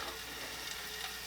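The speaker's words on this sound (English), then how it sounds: "Just let them sizzle in this oil real quick." Meatballs frying in oil in a non-stick skillet, a faint, steady hiss and crackle of sizzling with no talk.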